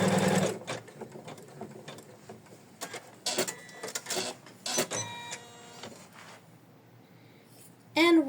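A sewing machine stitches a placement line for a fabric ornament in short, rapid bursts of mechanical whirring and clatter, near and fairly quiet, separated by pauses, with a louder burst at the end.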